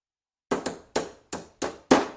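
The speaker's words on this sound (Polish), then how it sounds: "Tu sobie akurat pomożemy młotkiem." Six sharp metallic hammer taps on a punch driving a pin out of a Glock 19 Gen 4 pistol strike in quick succession after a brief silence, each ringing briefly before the next blow.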